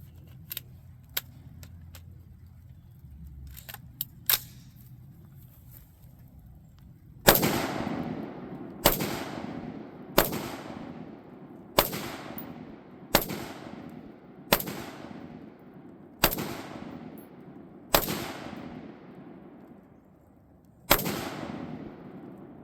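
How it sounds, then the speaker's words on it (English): A DS Arms AR15 rifle firing 75 grain jacketed hollow point rounds outdoors: after a few faint clicks, nine sharp, loud shots are spaced roughly a second or two apart, each followed by a brief decaying echo. "see what happens when I shoot them with a 75 grain jacketed hollow point"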